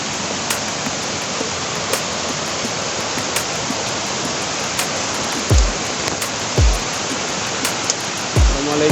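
Near the headwaters of the Logawa River in a forest, fast water rushes steadily and loudly, with a few low thumps and a faint regular ticking riding over the constant flow.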